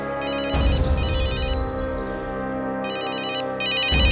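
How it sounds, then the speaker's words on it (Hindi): A phone ringtone chimes in repeating bursts over a low musical background, with a short pause in the middle before ringing again. "सर, फोरेंसिक से फोन है डॉक्टर निकुंज का।"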